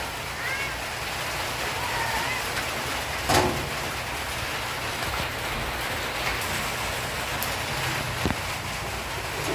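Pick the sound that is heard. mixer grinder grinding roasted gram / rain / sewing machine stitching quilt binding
rain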